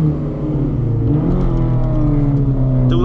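A rear-wheel-drive car, an old banger at a junk-car race, accelerates with a loud, steady engine drone whose pitch climbs gradually, heard close up from inside the vehicle.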